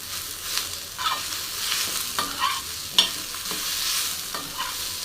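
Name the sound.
coriander sautéing with onions in a pan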